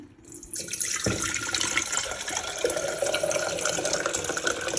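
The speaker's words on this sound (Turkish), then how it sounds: "Çay suyumuzu koyacağız." Tap water runs steadily into a kettle being filled for tea in a home kitchen, a continuous close splashing hiss that starts abruptly and holds for several seconds.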